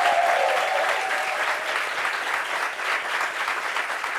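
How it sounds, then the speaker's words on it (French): A French TV talk show studio audience applauds a guest, with a dense, steady wash of clapping at full strength throughout, close and continuous with no speech over it. "Applaudissements pour Doji Laure."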